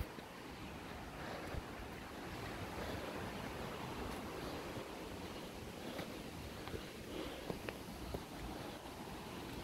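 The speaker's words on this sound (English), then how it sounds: "to see the top of this waterfall." Roaring rush of the waterfall at Ramsey Cascade in the Tennessee mountains, a steady broadband wash of falling water with gusts of wind noise on the microphone, continuous and fairly loud throughout.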